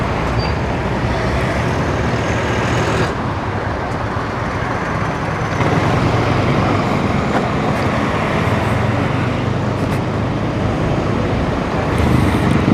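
Motorists drive along the NLEX expressway in a continuous loud wash of passing cars, buses and trucks, with the roar swelling as heavier vehicles go by and a brief air-brake hiss.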